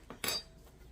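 Metal cutlery clinks against a plate while pork chops, butternut and corn are dished up at dinner, with two quick close clinks, the second sharper and brighter, and then quiet.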